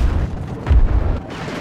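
Cannon fire and explosions in the video game Battlefield 2042 rumble as a single deep boom in the middle of a dense, noisy battlefield din.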